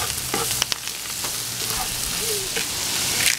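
Shrimp browning in a hot pan while Filipino fresh lumpia is prepared, giving off a steady, close crackling sizzle throughout with no pauses.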